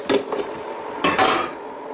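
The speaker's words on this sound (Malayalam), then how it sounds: "മധുരക്കിഴങ്ങ് കൂടെ ഇട്ടതിന് ശേഷം നല്ലപോലെ ഒന്ന് ഇളക്കുക" A spoon stirs boiled tapioca, yams and sweet potato in a pot, giving a few close, bright metallic clanks and scrapes in quick bursts.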